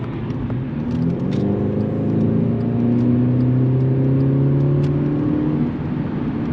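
A Volkswagen Polo GTI accelerates hard, its engine note rising and falling in smooth sweeping tones as it pulls through the gears, loud and steady from inside the car, with no talking.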